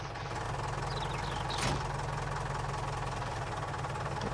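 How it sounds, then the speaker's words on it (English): A tractor engine idles steadily in Farming Simulator 19, a constant low knocking rumble with a suspected timing fault, heard alone without talk apart from one brief sharp click midway. "I'm starting to think there's something wrong with the timing on this tractor."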